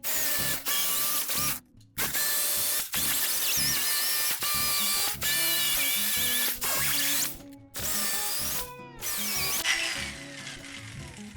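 A router trims the edge of a bar top arcade panel for a Raspberry Pi 4 build, giving a loud, steady, close whine with a few short pauses where the cutter eases off and then bites again.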